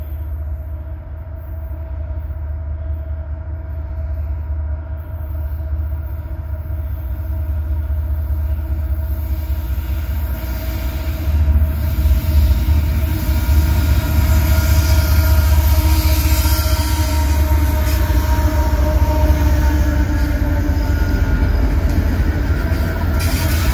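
A long freight train, carrying military loads, rumbles steadily past nearby, its low roar building slightly over time with faint wheel squeal and rail clatter.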